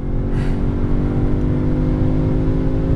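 An Audi S3 facelift accelerates hard, its engine holding a loud, steady mid-range drone with layered harmonics for about three seconds, close and continuous, with no talking over it.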